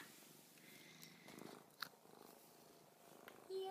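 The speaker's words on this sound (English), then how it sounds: "so that's my cat" A pet cat purring close by, a quiet, continuous rumble with a few small rustles and taps.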